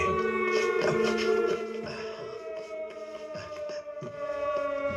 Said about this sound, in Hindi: उस सायरन का मतलब सावधान होना है।